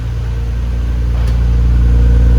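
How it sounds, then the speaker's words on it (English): A 1999 Nissan Skyline R34 GT-R idles through its muffler, a loud, steady low rumble with an even pulsing throb held close and unbroken throughout, with no voices. "Muffler sounds good. There's no weird popping sounds or idling issues."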